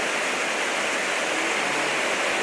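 Heavy rain pours down outside a house, with water running and dripping. It makes a dense, even, hissing wash with no talking.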